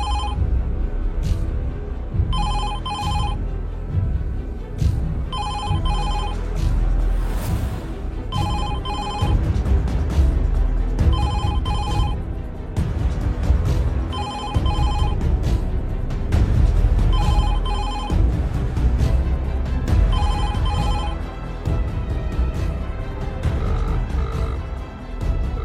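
A telephone rings repeatedly in regular bursts of electronic trilling over a low, rumbling background, continuing for about twenty-five seconds.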